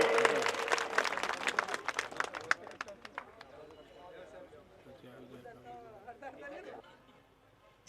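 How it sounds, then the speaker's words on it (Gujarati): A crowd at a Thakor community meeting in Dhanera bursts into loud clapping that thins out after a few seconds and gives way to murmuring chatter and voices. "જોરદાર તાળીઓના ગડગડાથી વધાવી લઈએ"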